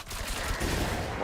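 Bow-fired bombs in Diablo IV burst in a brief, loud rumbling cluster of explosions that fill the short moment without pause.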